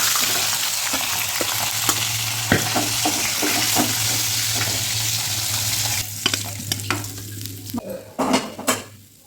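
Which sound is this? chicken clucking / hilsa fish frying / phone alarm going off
hilsa fish frying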